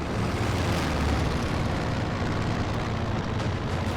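Aircraft flying over a battlefield in Company of Heroes 2, heard as a steady, dense low roar that stays loud and constant throughout, with no talk over it.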